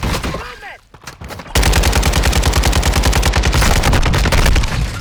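Rapid automatic gunfire from a gun in Call of Duty Modern Warfare II, a loud, dense stream of shots after a brief quieter lead-in with a few scattered sounds.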